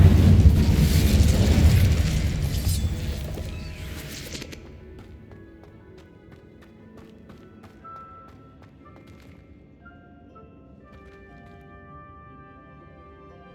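An Incendio fire spell blast in the Hogwarts Legacy video game, a loud, roaring burst of flame that lasts a few seconds and then dies away into a quiet background with faint tones.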